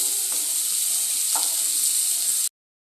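Capsicum fries in a hot pan with a steady, bright sizzle while a spoon stirs it, adding a couple of soft scraping taps; the cooking is close and even and stops abruptly.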